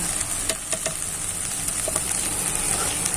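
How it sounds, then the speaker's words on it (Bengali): Maggi noodle filling sizzles and fries in a pan while being stirred, with a steady broadband hiss and scattered light scraping taps close by, no voices. "ম্যাগিটা নেড়ে চেড়ে আমি তৈরি করে নেব।"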